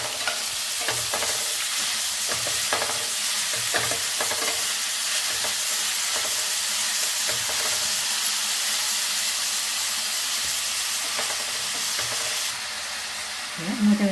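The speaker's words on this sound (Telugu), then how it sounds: "ఉల్లిగడ్డలు అన్నీ వేసేస్తున్నా ఆయిల్లో. మంచిగా నూనెలో మగ్గనివ్వాలి." Onions frying in oil in a pan, a continuous close sizzle and hiss with occasional stirring scrapes, steady throughout before briefly easing near the end.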